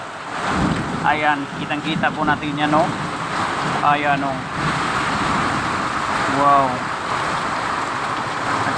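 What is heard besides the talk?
heavy rain and strong wind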